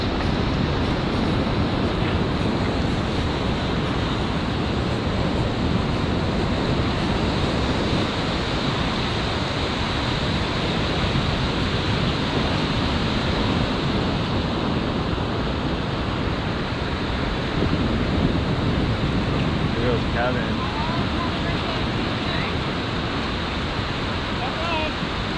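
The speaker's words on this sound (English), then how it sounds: "there's waves out there." Ocean surf at La Jolla Shores rushes in a dense, continuous roar mixed with wind noise on the microphone, loud and steady throughout, with faint voices now and then.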